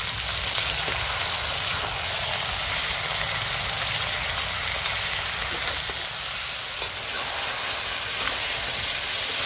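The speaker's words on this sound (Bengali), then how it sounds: "এখন মাংসটা কষাবো" Chicken with capsicum, tomato, turmeric and salt sautés in a pan, making a loud, steady sizzling hiss with scattered crackles and occasional stirring scrapes, and no talk.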